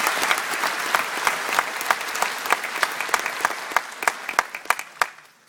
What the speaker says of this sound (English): give the band a round of applause to thank them